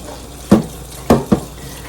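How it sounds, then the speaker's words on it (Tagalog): Dishes are washed at a kitchen sink under running water, with a steady low water hiss broken by three sharp clinks or splashes of handled dishes, close and distinct. "now I'm washing the dishes"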